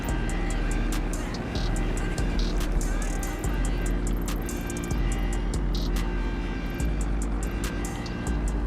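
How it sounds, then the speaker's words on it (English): A smuggler plane drones overhead in GTA Online, its steady propeller engine loud and sustained throughout, with a low rumble and no voices. "Smuggler plane right in the middle of me recording a video."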